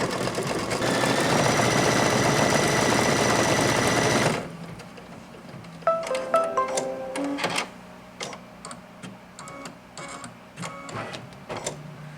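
A single-needle embroidery machine stitches steadily and loudly for about four seconds, then stops; scattered clicks and short mechanical whirs of a color change follow at lower level.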